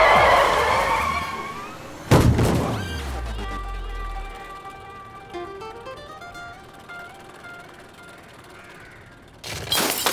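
A school principal's car arrives and skids in an accident: a brief voice, then a sudden loud burst of tyre screech and impact, followed by lingering mechanical rattling and whining tones, and another loud burst at the end.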